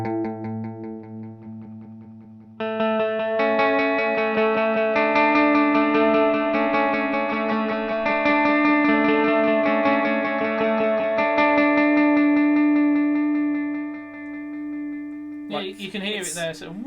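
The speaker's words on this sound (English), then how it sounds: "This is mod, so this is modulated delay." Electric guitar run through a Boss DD-8 delay pedal set to modulated delay, sustained chords ringing with a subtle wavering echo tail, played alone and close with no talking.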